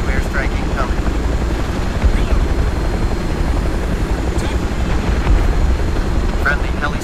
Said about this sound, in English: Friendly heli strikes inbound.